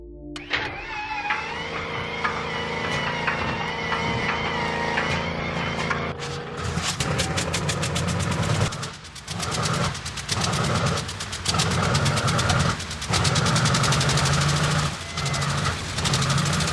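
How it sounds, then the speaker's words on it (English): Radial engines of the B-29 bomber Kee Bird crank and catch, moving from a whining starter to a loud, rough, pulsing run with irregular sputters, close by and with no talking. "when the Kee Bird's engines turned over"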